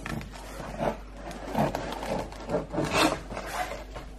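A serrated knife saws through a crusty spelt loaf in several rasping, woody strokes, close up and fairly quiet.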